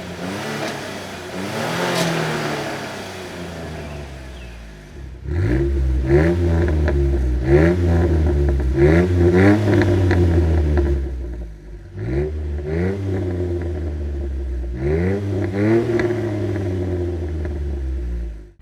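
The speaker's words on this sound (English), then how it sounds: "For reference, here is a clip of what it sounds like." Jeep Wrangler JK fitted with a performance axleback exhaust, revving in several rising and falling bursts with a deep, loud rumble, close by and with no voices.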